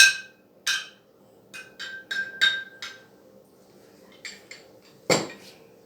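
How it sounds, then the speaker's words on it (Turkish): A metal spoon stirring yogurt starter into milk in a pot rings out in a series of bright clinks against the side, a rhythmic run in the middle, then a louder knock near the end, close by with no talking. "Önceden hazırladığımız yoğurdumuzu mayalanması için bir kaşık koyuyoruz. Sonra karıştırıyoruz."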